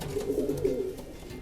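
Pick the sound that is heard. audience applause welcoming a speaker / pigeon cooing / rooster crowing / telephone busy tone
pigeon cooing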